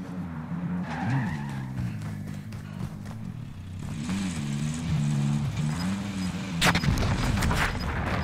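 A car driven hard in Call of Duty: Modern Warfare, its engine droning steadily with wavering pitch throughout while tires skid, ending in a louder burst of screeching and impact noise near the end.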